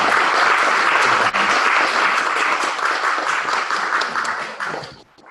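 A meeting crowd claps loudly for a member, a full dense round of applause that holds steady and then tapers off to silence at the end.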